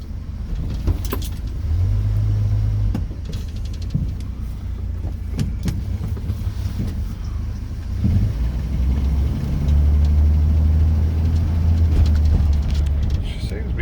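A 1982 Ford F150 Bullnose pickup truck drives along with its engine running, a steady low rumble and drone throughout, rising and falling with throttle and heard from inside the cab.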